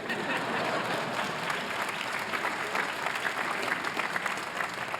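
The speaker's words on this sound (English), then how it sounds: "you can applaud." An audience at the 2014 Harvard commencement breaks into sustained, dense applause, steady and loud throughout with a faint crowd murmur beneath.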